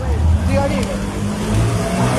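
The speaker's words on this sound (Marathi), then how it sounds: "तर ही टू व्हीलर येत आहे" A two-wheeler's engine rumbles close by as it moves through floodwater in a flooded railway underpass after unseasonal rain, with people talking over it.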